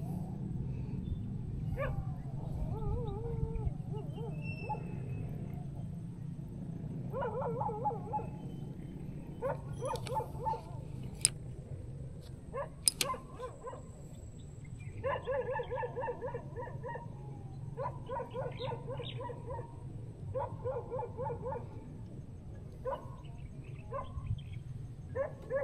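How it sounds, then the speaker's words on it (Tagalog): A dog barks in bursts at a fishing spot, with repeated yelping barks over steady low background noise, clearer and more frequent in the second half. "Natawadan na yata ako ng aso dito."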